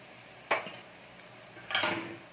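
A metal lid set down onto a cooking pot of eggplant, giving two clattering contacts about a second apart, the second longer with a brief ringing tone, heard alone against a quiet kitchen background.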